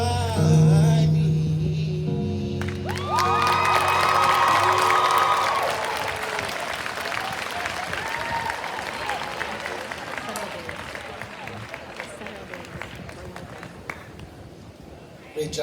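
Graduation audience applause and cheering after a sung performance, opening with a sustained sung or held note before a broad crowd roar of clapping and whoops takes over and gradually thins out, with voices mixed in.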